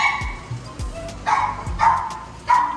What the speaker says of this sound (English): There's always a loud dog back here